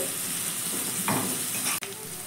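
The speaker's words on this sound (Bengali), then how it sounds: "প্রথমে পেঁয়াজ আর লঙ্কাটাকে দিয়ে দিলাম। 4-5 সেকেন্ড মতো হালকা একটু নাড়াচাড়া করে নেব" Chopped onion and green chili fry in an oiled pan while being stirred, giving a steady, dense sizzle with brief scraping strokes and a short clatter near the end.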